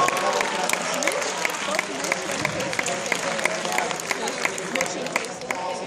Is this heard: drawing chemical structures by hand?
no